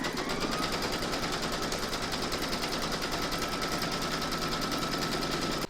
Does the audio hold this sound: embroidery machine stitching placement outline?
yes